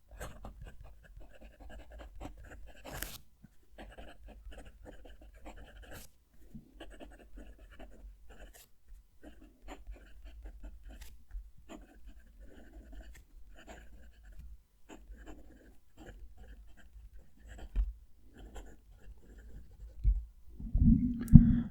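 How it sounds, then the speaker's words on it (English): A fountain pen nib scratches across textured cream paper in a continuous, fine, close rasp of writing strokes, with a louder rustle near the end and no talking. "So it just demonstrates the different ways that the nib's working. And I'll write a sentence."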